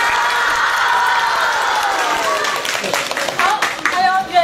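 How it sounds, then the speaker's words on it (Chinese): An audience applauds and cheers at an interview event in Zhengzhou, a broad wash of clapping and shouts that swells and breaks up toward the end. "那么我先把你们的掌声和欢呼声送给他们"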